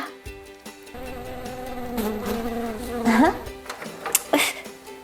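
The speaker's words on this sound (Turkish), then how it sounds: "Ay bıktım ben bu sineklerden." Flies buzz steadily around a backyard pool overgrown with plants, a continuous insect drone with wavering pitch under bright cartoon music and voices.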